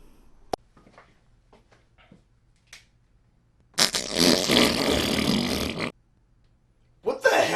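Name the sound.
fart sounds from novelty fart markers advertisement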